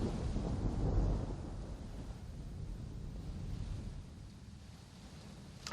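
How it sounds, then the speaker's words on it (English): A thunderstorm rumbles on as a steady low roar with gusty, windy texture, swelling slightly near the start and holding a continuous dull wash throughout, with no voices. "a thunderstorm hits for the whole duration of the session"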